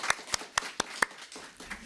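A few sparse, faint claps ring out in a quiet church sanctuary during a Sunday service, about eight separate hand claps that thin out toward the end.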